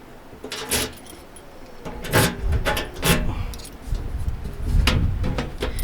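A key slides into the lock of a Tuffy Security Products rear seat lockbox, giving a few close metallic jangles and scrapes, with brief clicks and rubbing spread across the moment.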